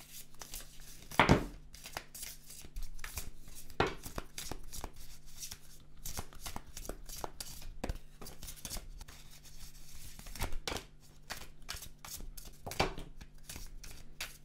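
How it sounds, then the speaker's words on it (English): Tarot cards being shuffled by hand in a quiet room, a long run of soft riffling and slapping bursts at an irregular rhythm, with one sharper snap near the start and no talking. "So I'm going to start shuffling."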